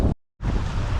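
Wind and waves rush past a yacht under sail in about 20 knots of wind, a loud, steady roar with heavy microphone buffeting that cuts out briefly near the start before returning.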